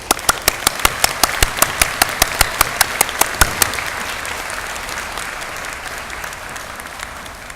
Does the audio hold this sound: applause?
yes